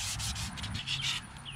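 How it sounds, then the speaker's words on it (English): Close, rhythmic rubbing strokes of 320 emery cloth against a rusty boat trailer shaft, several quick back-and-forth scrapes in steady succession. "we're gonna take some 320 emery cloth and try to clean the shaft up a little bit"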